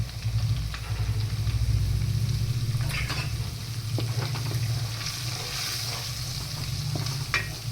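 Whole spices, ginger-chili-garlic paste and asafoetida sizzle and crackle in hot oil in a pan, a steady close frying hiss with occasional stirring scrapes and pops.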